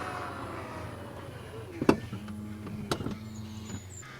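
A low electric seat motor whirs steadily inside a 2023 Honda HR-V, punctuated by a couple of sharp clicks and thumps, fairly quiet and close.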